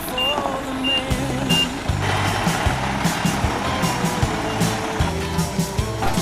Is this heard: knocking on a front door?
no